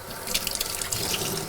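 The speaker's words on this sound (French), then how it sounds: "Vous les rincez bien sous l'eau claire." Basil rinsed under a running tap: steady splashing water with small drips and patters, close and moderately loud, no talking.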